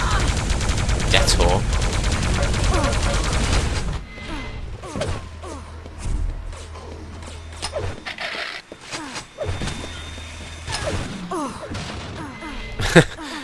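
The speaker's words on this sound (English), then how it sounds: "goes down to the plasma spam from Detor" Plasma gun and rocket launcher fire from a Quake team deathmatch between Poland and the Czech Republic: a dense, rapid barrage for the first few seconds, then scattered bursts and single thuds that end in one sharp, loud blast.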